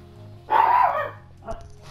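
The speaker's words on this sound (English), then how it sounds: "Sorry if you can hear my dog." A pet pug barking in one loud yappy burst followed by a shorter, fainter yip, heard indoors in the background.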